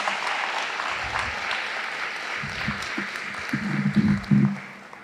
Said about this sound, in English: To the students that welcomed us when we came in, let's give them a round of applause.